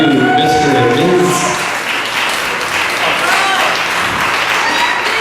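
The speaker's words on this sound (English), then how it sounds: "Once again, ladies and gentlemen, a big round of applause for Brian and Jessica, our new Mr. and Ms." Wedding guests at a reception break into loud, sustained applause that swells right after a voice briefly speaks at the start, then continues evenly to the end.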